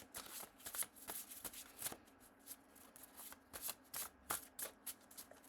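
Oracle cards are shuffled by hand in a quiet room, a close series of soft riffling bursts and flutters in an irregular rhythm with no talking.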